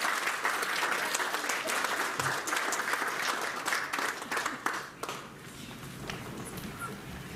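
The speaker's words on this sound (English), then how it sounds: "can we just give her a round of applause?" An audience claps for a woman being welcomed to the stage. Dense, even applause fills the room for about five seconds, then tapers off into quieter room murmur.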